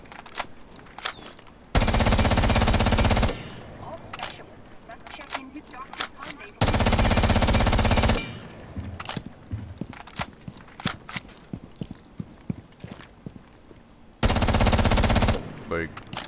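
Video game machine-gun fire comes in three long, loud sustained bursts, separated by stretches of quieter footsteps and clicks.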